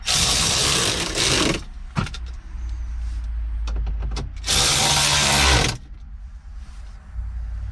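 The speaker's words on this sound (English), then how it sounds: "Now we're going to get our electric ratchet and run them in." Electric ratchet snugging 7mm bolts while a car radio is installed, running in two loud sustained whirring bursts with brief clicks and handling noises between them, close up and with no talking.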